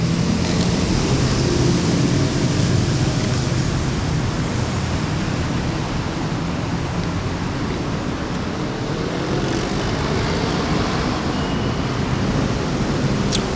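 Steady, loud roar of dense traffic from a highway overhead and an expressway below, a continuous broadband wash with no gaps and no talking.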